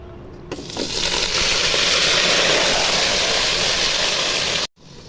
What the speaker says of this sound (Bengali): এখন মেখে রাখা মাংসগুলো ঢেলে দিব